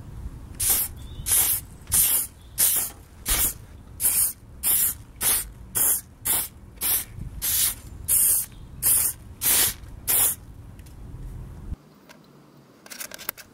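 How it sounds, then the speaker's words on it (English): An aerosol can of clear lacquer sprays in about twenty short hissing bursts with brief pauses between, loud and close, ending in near silence. "I finished it off with a cheeky couple of coats of clear spray lacquer."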